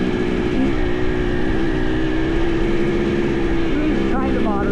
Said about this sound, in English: Check out what an electric start modern bike feels like.